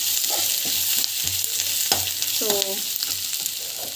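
Vegetables with turmeric powder sautéing in a pan, a dense close sizzle with repeated spatula scrapes and clinks, and a short metallic ring near the middle.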